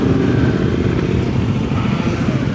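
A dense, unbroken engine roar rises from motorcycles riding past at the large Coluche 2025 biker rally in France, loud and steady with no single bike standing out.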